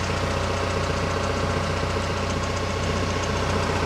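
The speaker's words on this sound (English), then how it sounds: "with the engine running, the pump running" A TYM T474 HST tractor runs steadily with its engine and hydraulic pump on, a constant close mechanical drone and hum with no pauses.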